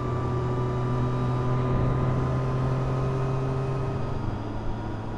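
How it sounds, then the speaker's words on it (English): A Triumph Daytona 675 three-cylinder motorcycle engine hums at a steady moderate speed through its exhaust, a continuous even drone heard from onboard with a slight swell partway through. "Oh, that triple, even with this exhaust,"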